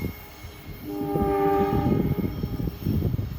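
An Acela Express horn sounds at Princeton Junction, a loud sustained chord blast over the rumble of a passing train.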